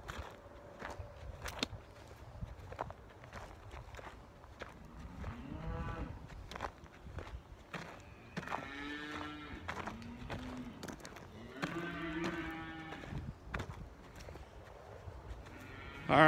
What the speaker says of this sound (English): the entire beef herd here is in the cow yard for the most part